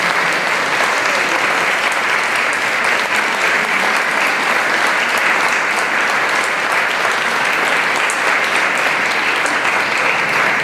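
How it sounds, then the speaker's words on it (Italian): Loud, sustained applause from a large audience at an evening choir concert, steady clapping throughout with no pauses. "con un grande applauso"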